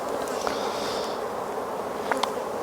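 Honey bees at an opened hive give off a steady, fairly loud buzzing drone, with a couple of brief closer passes standing out against the continuous hum.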